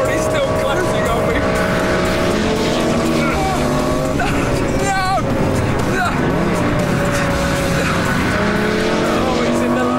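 A Lamborghini Gallardo Superleggera races a Ducati 1098 motorcycle on a long straight at high speed, with loud continuous engine roar and some tire noise, while someone talks throughout.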